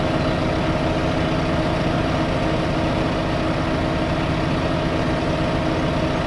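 Steady, continuous tractor engine idle from Farming Simulator 2015, a low droning rumble that holds at an even level throughout with no voices over it.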